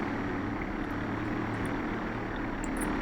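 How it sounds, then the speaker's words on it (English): Aircraft in a flight simulator game taxiing on the ground, its engine a steady, even drone with a low hum throughout, no voices. "Firstly, let's check if our aircraft can be handled on the ground."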